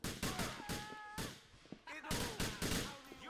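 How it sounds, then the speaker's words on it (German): Gunfire during a club shootout in the crime game GTA IV, sharp repeated shots in quick clusters with brief gaps, close and punchy, alongside talk. "Oh mein Gott, wir werden voll geschossen."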